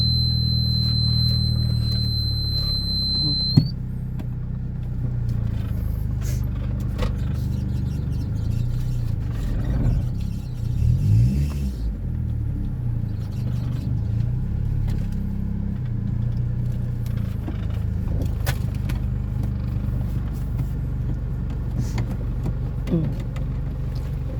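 A car engine revs as the accelerator is pressed, a low rumbling drone that rises and swells around the middle, with a sharp click near the start and scattered small knocks over the steady motor noise.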